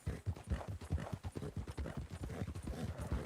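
A thoroughbred horse's hooves in Red Dead Redemption 2 Online clop in a steady, rapid rhythm, each hit close and clear, continuing evenly without other sounds.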